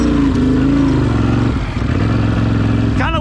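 Built engine with clutches in a Can-Am or CFMoto off-road vehicle revving loudly and close, a rough, throaty roar that wavers and surges throughout, with a shout near the end.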